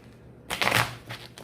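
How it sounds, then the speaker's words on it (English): Tarot cards being shuffled by hand: a short riffling burst of papery flutter, close and moderately loud, followed by a fainter second riffle. "I'm going to do a couple shuffles."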